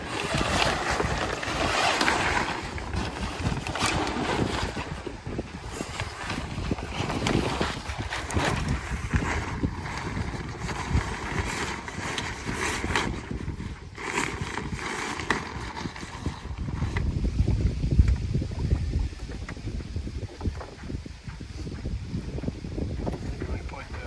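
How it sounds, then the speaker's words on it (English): Wind gusts around a CL 16 sailboat being rigged with a reef in the mainsail, a steady broadband rush with wind buffeting the microphone throughout, rising near the end, with rigging noises and voices in the background. "the wind's really coming up now"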